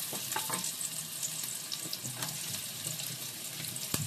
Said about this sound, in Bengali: দিয়ে এখন এর মধ্যে দিয়ে দিলাম রসুন কুচিটা।